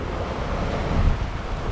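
An offshore breeze rushes over a Hallberg Rassy 54 sailboat off Florida while small waves wash along the hull, a steady moderate windy hiss with a soft swell of water in the middle.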